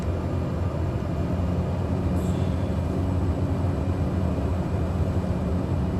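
Cessna Caravan turboprop engine in Microsoft Flight Simulator on final approach with flaps out, a steady broadband roar and hum holding constant throughout, close and unbroken.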